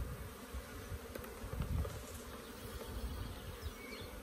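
Honey bees buzz softly around an open hive colony during an inspection, a continuous low droning swarm sound, faint and steady with no talking.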